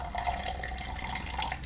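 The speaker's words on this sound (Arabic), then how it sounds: "وهزود عليها بقى شويه ميه." Water is poured into a mixture being prepared in a kitchen, a steady close trickling and splashing that runs throughout.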